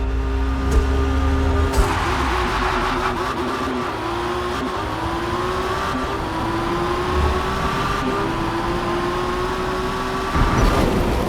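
A loud, steady high-revving drag race car engine in Forza Motorsport drones continuously with a rising whine, harsh and buzzy, filling the whole stretch without any talking.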